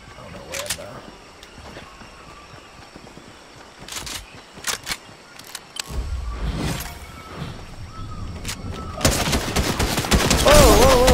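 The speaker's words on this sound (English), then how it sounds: "Shots over here." Gunfire in Fortnite, with scattered sharp shots early and a heavier burst of fire toward the end, mixed with game ambience and a voice talking in between.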